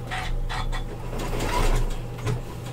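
A sewing machine stitches across the bottom of a wire frame bag, a steady close mechanical whir with a faint rhythmic patter running continuously throughout.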